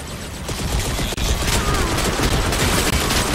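Rapid pistol shots crack out in the video game Crysis 3 amid a dense, continuous battle din of overlapping gunfire, loud and sustained, with no clear speech.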